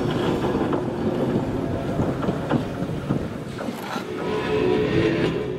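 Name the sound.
Northwestern Pacific interurban steel train cars approaching Alto Tunnel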